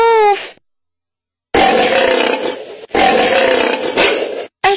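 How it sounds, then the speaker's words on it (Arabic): A lion gives loud, close roars in two long drawn-out bursts, each with a rough, guttural growl, following a brief higher animal call and a silent gap. "أسد أسد أسد أسد أسد أسد أسد أسد"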